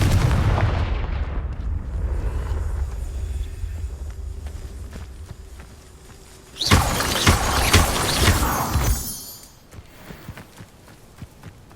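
Confringo blasting spell going off in Hogwarts Legacy on PS5: a sudden loud burst with crackling debris at mid-clip, after a quieter rumbling stretch, then fading to low ambience; no talk.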